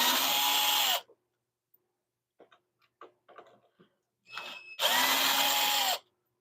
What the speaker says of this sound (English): I'm going to take this faceplate off